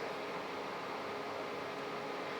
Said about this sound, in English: Let's go to blue noise.